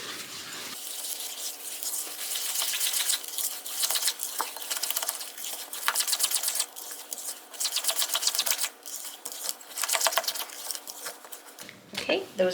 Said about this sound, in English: And we're going to get that stirred up.